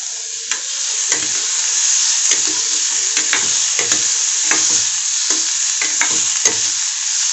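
Cut beans and broken wheat fried and stirred in a pan, with a constant hiss of frying and repeated close scrapes and knocks of a spatula in an uneven rhythm.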